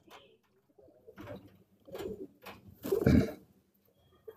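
A kabootar pigeon coos close by in a short series of soft, throaty, rhythmic calls ending in a louder, fuller coo, with no talking over it.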